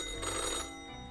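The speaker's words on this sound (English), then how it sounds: "The old-fashioned phone suddenly rings with an ear-piercing metallic clatter." An old-fashioned telephone in the game Death and Taxes gives a brief burst of harsh metallic bell ringing that cuts off quickly, leaving a faint ringing tail.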